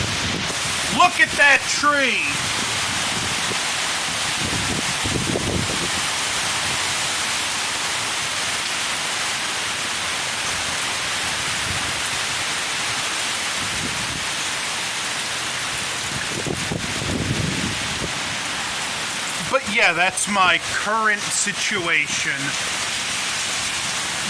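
Heavy rain and strong wind from Hurricane Helene in Morganton, North Carolina, a constant loud roaring hiss of rain and gusts, with someone speaking briefly near the start and end.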